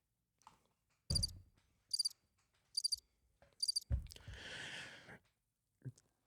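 Crickets chirp in four short, evenly spaced bursts, followed by a soft breathy rush of noise, in an otherwise quiet setting.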